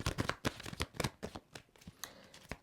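A deck of tarot cards is shuffled by hand at close range, giving a quick series of crisp riffling slaps and flutters in an uneven rhythm, with no talking.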